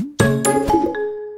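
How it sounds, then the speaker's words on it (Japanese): A bright ding-dong chime sounds in a short children's intro: two clear, ringing tones struck in quick succession with a sustained shimmering tail, close and loud. "ピンポン。"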